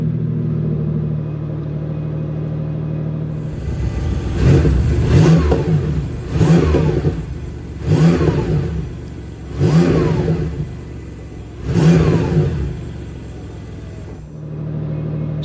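A Porsche 911 992.2 GTS Targa hybrid idles, then revs five times in short, evenly spaced throttle blips that rise and fall back to a steady idle, close and loud.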